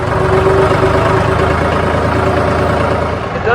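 A John Deere 5103 tractor engine runs at a steady, loud idle nearby, a continuous low drone with a faint whine, with no voices.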